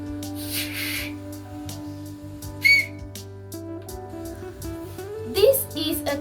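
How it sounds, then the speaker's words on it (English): A small 3D-printed toy whistle is blown in a few short, shrill bursts against a steady background hum, with brief rustling between blows. "This is a whistle."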